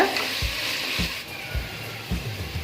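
Chopped onions and curry leaves sautéing in hot oil with a steady close sizzle, punctuated by four evenly spaced spatula strokes against the pan.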